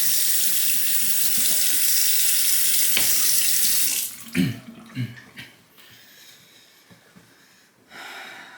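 Water runs from a tap for honing a blade on a whetstone. It is a loud, steady hiss for about four seconds, then cuts off, leaving scattered small clunks and quiet handling noises.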